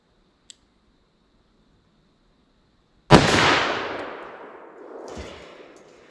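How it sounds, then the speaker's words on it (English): A .44 Magnum revolver fired once in double action, one sharp, loud, close blast after a small click and about three seconds of quiet, followed by a long rolling echo with a second swell of reverberation. "I'll fire once in double action."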